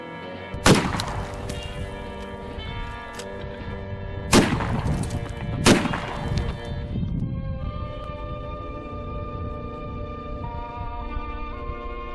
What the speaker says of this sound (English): if you've never shot a lever action 30-30, man, you just don't know what you're missing